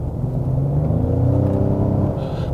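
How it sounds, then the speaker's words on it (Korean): Ford Explorer ST-Line under full-throttle acceleration, heard as a loud, steady engine drone that rises gradually in pitch over a low rumble, with no talking. "가속 페달 한번 끝까지 밟아볼게요"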